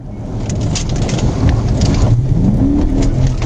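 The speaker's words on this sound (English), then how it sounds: "the vehicle picked up speed, taking a rural stretch of road at over 100 miles per hour" A fleeing car races along a rural road at high speed, heard from a police dashcam as a loud steady engine roar and road rush, with the engine pitch climbing toward the end.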